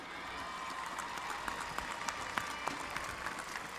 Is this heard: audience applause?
yes